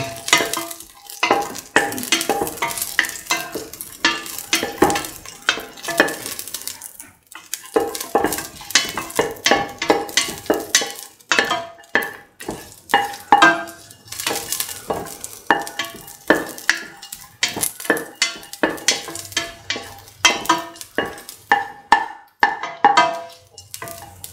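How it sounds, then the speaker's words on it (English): Cashews sautéing in a pan for a sweet coconut milk wheat soup, with busy repeated stirring and scraping of a spoon against the pan over a light sizzle, close and fairly loud, no voices. "saute until the cashews are nicely brown."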